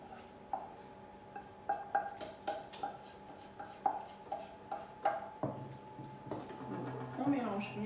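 Egg yolks being whisked into melted chocolate in a bowl, a quiet series of rhythmic clinks and taps of a whisk against the bowl, close and steady, with a voice talking over the stirring.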